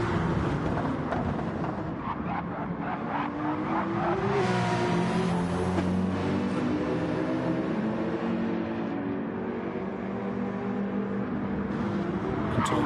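Race cars roar past at the Nürburgring 24 Hours, a BMW among them, engines loud and continuous with rising and falling revs as they sweep through a corner.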